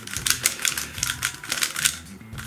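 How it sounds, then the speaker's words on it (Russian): A MoYu Weilong GTS3M magnetic speed cube being turned quickly, giving a close run of sharp, rapid clicks in an uneven rhythm. "Вот слышно вот такой вот шум кликающий."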